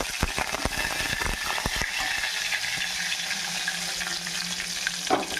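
Mustard seeds, cumin and curry leaves fry in a pan with a loud, steady sizzle, crackling pops and a few sharp spatters early on, with no one talking.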